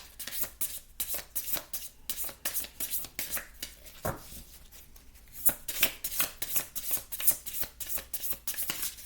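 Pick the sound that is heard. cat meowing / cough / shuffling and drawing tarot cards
shuffling and drawing tarot cards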